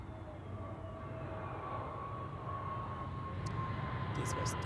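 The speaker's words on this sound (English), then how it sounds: "This was the Pegasus A321neo from Istanbul, I think." A Pegasus Airbus A321neo from Istanbul passes at Zurich Airport, giving a faint, steady engine rumble with a thin whine that builds slightly toward the end.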